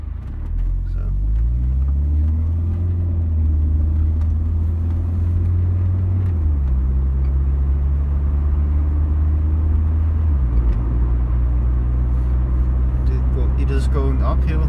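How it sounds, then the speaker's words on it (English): Car climbing uphill on an old national road in Denmark, a loud close engine drone that steps down in pitch at gear changes around six and ten seconds, with road rumble throughout and people talking over it. "I'm driving at the old national road here in Denmark"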